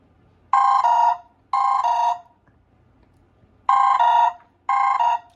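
Ringtone from an Umidigi Bison rugged smartphone at full volume through its single speaker: two pairs of bright two-tone electronic chirps with a pause between the pairs, loud, close and clear.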